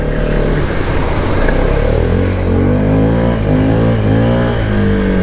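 A 2023 Arctic Cat Mudpro 600, a 45-horsepower utility vehicle geared low, revs its engine steadily while pulling through slippery mud, the loud close drone rising and wavering in pitch throughout.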